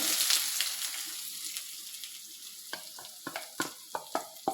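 Chopped onions with green chillies sautéing in a pan for a clam meat roast, a steady soft sizzle broken by a run of sharp stirring scrapes near the end, with no talk.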